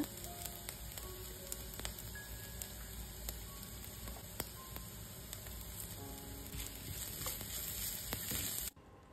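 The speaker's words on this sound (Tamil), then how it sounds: "இது கூடவே கொஞ்சமாக red chilli powder, coriander powder, turmeric powder, salt and hing இதையும் சேர்த்துட்டு நல்லா சாட்டே பண்ணிக்கோங்க" Red chilli, coriander and turmeric powder with salt and asafoetida sautéing in a pan for an Indian school lunch-box rice dish, giving a steady close sizzle with faint stirring clicks that stops abruptly at the end.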